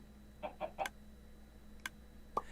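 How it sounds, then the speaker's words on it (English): Chickens in a Minecraft Skyblock chicken farm give a few soft, short clucks, three in quick succession and then two more, scattered over a low steady hum. "There's still a slight noise that happens, and let's come back over to the chicken farm."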